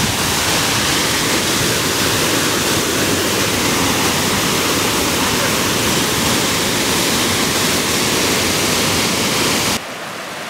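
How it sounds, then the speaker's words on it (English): Evolution Creek runoff rushes along the John Muir Trail near McClure Meadow in Evolution Valley, a loud, continuous roar of water filling the whole scene and cutting off abruptly at the end. "There's Evolution Creek."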